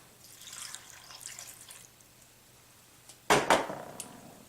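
Milk poured into a glass bowl of green beans: soft splashing drips early on, then a short louder gush of liquid hitting the beans and glass near the end, close by and alone.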